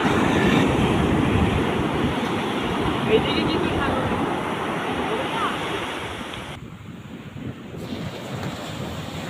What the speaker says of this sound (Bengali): সমুদ্রের সৌন্দর্য আর ঢেউয়ের শব্দ এত ভালো লাগছিল